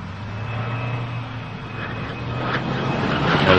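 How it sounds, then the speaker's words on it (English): Space Shuttle Columbia landing on the runway, with main gear touchdown: a steady, close, broad roar that swells slightly toward the end. "Main gear touchdown. The drag chute deploy."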